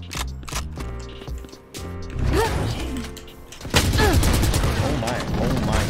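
Valorant shooter gameplay brings bursts of gunfire, clicking weapon mechanics and impacts, quieter at first and then a dense, loud volley near the end, mixed with a voice talking.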